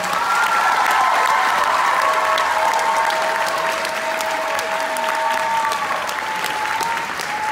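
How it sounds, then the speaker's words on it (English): Audience at a school concert applauding eighth grade band and choir students, a loud, sustained wash of clapping from a large crowd that slowly thins, with a sustained tone lingering underneath. "let's give our eighth graders another round of applause"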